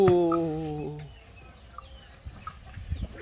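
Chickens cluck briefly at the start, followed by quieter scattered clucks and shuffling noises in the background.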